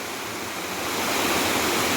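Water pours steadily down a waterfall in the Mayurbhanj hill forest, a broad continuous roar that swells slightly louder halfway through, with no talking.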